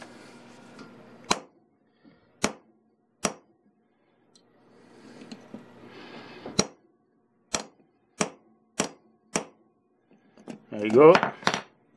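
Sharp hammer blows on a steel punch crimping a wire rope ferrule sleeve by hand without a swaging tool, about nine distinct metallic strikes in an uneven rhythm, close and loud, with brief speech and handling noise between them.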